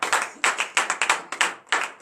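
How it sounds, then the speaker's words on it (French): A church congregation at morning prayer in Benin claps in quick rhythmic bursts of acclamation, hands striking close and loud in short grouped patterns. "donnez une vive acclamation à l'Éternel ce matin"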